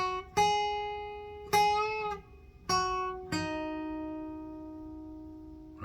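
An electric guitar plays a song intro at a quicker pace, four clean plucked notes with string bends, the last one left ringing out and fading.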